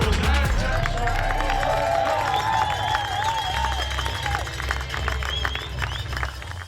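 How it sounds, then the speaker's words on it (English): Crowd at the Absa Cape Epic mountain bike race finish, applause and cheering spread through the whole stretch with voices and whistles rising above, fairly loud and continuous. "One more big round of applause."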